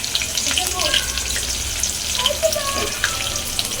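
Chopped onion hits hot oil already spiced with cinnamon, cardamom and cloves, producing a loud, close, continuous sizzle with scattered pops and crackles throughout.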